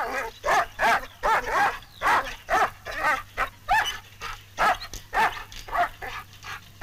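A French military guard dog, trained to forbid approach and attack, barks repeatedly in sharp, evenly spaced bursts close to the microphone, with a faint steady hum underneath.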